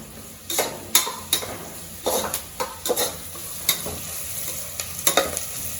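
Spices sizzle in ghee while being sautéed for tomato rice, with a spoon scraping and clinking against the pan in uneven bursts over a constant close, crackling fry.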